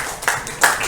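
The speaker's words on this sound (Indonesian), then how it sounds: "Tepuk tangan anak." Schoolchildren in a classroom clap together briefly, two soft bursts of hand claps, close and unaccompanied by talk.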